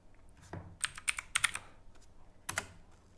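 Keys clatter on a computer keyboard while cryptocurrency ticker symbols are entered on an exchange site, a close burst of quick taps in small clusters separated by short pauses.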